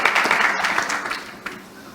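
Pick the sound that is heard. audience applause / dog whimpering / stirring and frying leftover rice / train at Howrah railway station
audience applause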